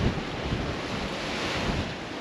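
Sea waves wash and hiss steadily around a sailboat sailing with two reefs in the mainsail between Martinique and Dominica, mixed with heavy wind rush against the microphone and no voices.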